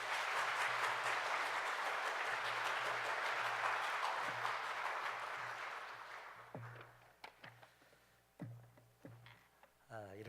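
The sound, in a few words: congregation applauding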